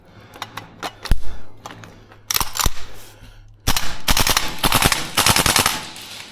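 A Tokyo Marui AK gas blowback airsoft rifle fires full auto in close quarters, sharp rapid chugging bursts of varying length separated by short pauses, loud and close.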